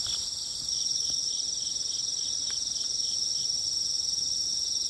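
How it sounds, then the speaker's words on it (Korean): Crickets in a field of kimchi cabbage seedlings give a loud, continuous high-pitched trill that holds steady throughout, with no voices over it. "귀뚜라미 보이시죠?"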